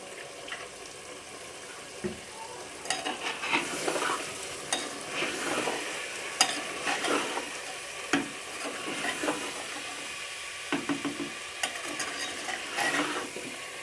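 Eggplant pieces fry in a pan for a spiced potato-eggplant curry, with a steady crackling sizzle throughout and repeated scraping clinks of a spoon stirring, close and fairly quiet.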